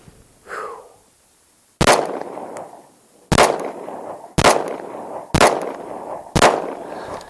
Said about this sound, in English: Got 5 rounds of Blazer 115 grain Blazer brass in here. We're going to shoot it.